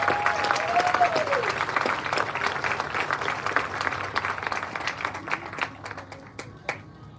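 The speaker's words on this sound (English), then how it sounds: "I would like to recognize her and give her a round of applause." An event audience gives a round of applause, dense sustained clapping that thins toward the end into scattered individual claps, with a brief tonal sweep near the start.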